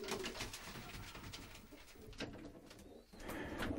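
Pigeons coo in a loft after a stone marten attack, soft throaty calls blending into a steady background of rustling and low murmur, faint and distant.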